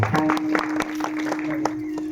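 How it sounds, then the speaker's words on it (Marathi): An audience at a devotional kirtan program in Varkhed claps steadily throughout, a dense stream of loud overlapping hand claps over a constant low electrical hum. "तुमच्यासाठी जोरदार टाळ्या वाजवा"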